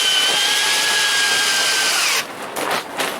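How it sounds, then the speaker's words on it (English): A cordless power drill with a low battery whines steadily at close range while working on wood boards for a workspace setup, then cuts off and leaves brief rattling handling noises. "Sounds like my drill battery's getting low."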